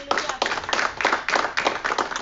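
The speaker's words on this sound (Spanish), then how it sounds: "denle un aplauso al Señor." A church congregation clapping in praise, rhythmic unison claps in a steady pulse, fairly loud and close, filling the room for a couple of seconds.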